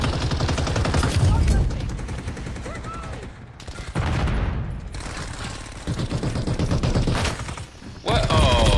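Modern Warfare 3 gunfire rattles in dense, loud bursts of rapid automatic shots, broken by brief pauses, with someone talking intermittently over the shooting.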